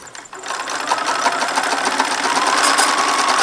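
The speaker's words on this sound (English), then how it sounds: "So I'm finishing up the quilting" Sewing machine stitching quilting on a baby quilt, a steady fast whir with rapid needle clatter running continuously and close throughout.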